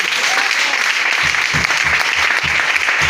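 Applause from a church congregation at a French-language worship service, a dense, loud, continuous clatter of many hands filling the room, with a voice faintly under it.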